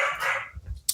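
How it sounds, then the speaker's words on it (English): A dog barks close by, one loud bark trailing into a shorter yelp, with a brief bump at the end. "sorry about the dog"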